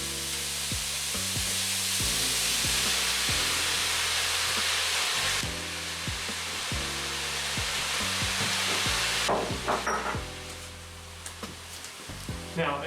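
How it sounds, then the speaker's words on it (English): Onions and mushrooms sizzle and hiss steadily in a hot pan, close by, with a soft background of music and some clattering toward the end. "Right now it's properly sauteing."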